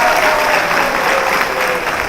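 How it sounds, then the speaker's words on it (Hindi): Audience bursts into loud, dense applause at a DXN gathering, steady clapping that fills the short moment without a break. "इसीलिए डी-एक्शन के लिए जोरदार ताली।"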